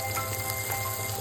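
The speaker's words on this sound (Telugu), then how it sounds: "ఈ టొమాటోస్ని కూడా ఒక 1 మినిట్ ఫ్రై చేసుకోవాలండి ఆయిల్లో" Tomatoes and vegetables frying in oil, a brief, even sizzle with a soft bubbling texture, close and steady, with no talking.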